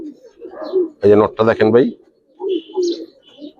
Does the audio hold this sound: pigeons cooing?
yes